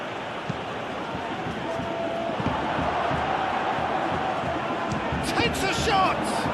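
A stadium crowd in the PES 21 football video game, at a World Cup match between Colombia and Ghana, gives off a steady, dense roar that swells slightly near the end, with a commentator's voice faintly under it.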